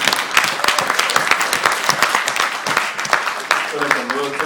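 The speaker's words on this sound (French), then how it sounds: "Je vais vous applaudir." A Shabbat gathering audience claps with dense, slightly uneven applause, and a voice starts speaking over it near the end.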